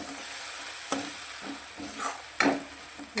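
A spoon stirs tomatoes through sizzling gravy in a pan, with a few scraping strokes and soft clinks over a steady background frying hiss.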